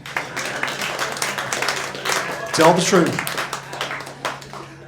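A comedy club audience claps and applauds in a scattered, moderate burst, mostly under the comedian's voice, which carries through the whole stretch.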